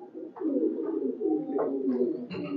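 Domestic pigeons at a pigeon loft, high-flyer breed, cooing in a steady low murmur of overlapping calls, close and continuous throughout.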